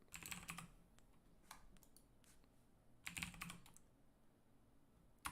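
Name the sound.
typing on a computer keyboard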